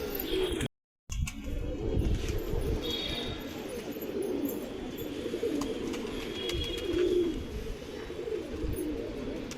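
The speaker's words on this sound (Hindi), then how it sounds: "वो कबूतर भी आ गया भाइयों" Pigeons coo repeatedly in low, throaty murmurs over steady outdoor background noise, with a brief dropout near the start; one pigeon is dyed pink.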